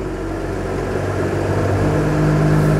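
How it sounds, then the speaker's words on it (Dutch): BMW 130i with a dealer-fitted performance exhaust revving close by, a steady loud engine note that builds slightly toward the end. "de door de BMW dealer gemonteerde performance uitlaat."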